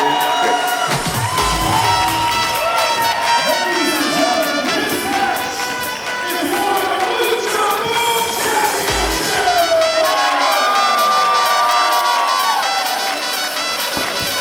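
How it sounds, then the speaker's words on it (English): Lucha-style wrestling crowd in an arena roaring and cheering, with shouts and whoops rising over a continuous loud wall of voices for the whole stretch. "You hear the roar of this crowd"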